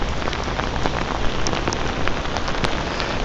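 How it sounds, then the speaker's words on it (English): Heavy rain pours down onto a US military poncho, a dense, loud, continuous patter of close drops with occasional sharper hits and no talking. "pretty good downpour"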